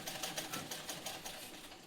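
A home sewing machine stitches a fall onto a saree, running in a fast, even rhythmic whir with regular pulses, faint and alone.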